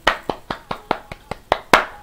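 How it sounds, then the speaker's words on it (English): Nine crisp hand claps in a steady, even rhythm over two seconds, close and fairly loud, with the last clap a little stronger than the rest. "This is a round of applause."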